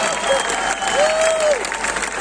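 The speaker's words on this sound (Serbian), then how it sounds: "Aplauz broj 4 Anja Violina." A concert audience claps and cheers steadily, with a sustained whistle-like tone rising above the applause partway through.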